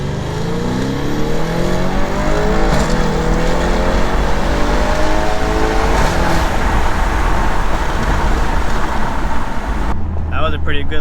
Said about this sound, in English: We're going to go ahead and do a quick pull